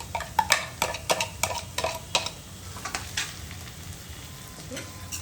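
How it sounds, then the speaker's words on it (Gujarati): Dry onion is stirred into Manchurian gravy in a pan, with a steady sizzle under repeated scraping and clinking strokes of a spoon against the pan, loudest early and then settling into a softer fry. "આ બધું બરાબર મિક્સ કરી દેવાનું"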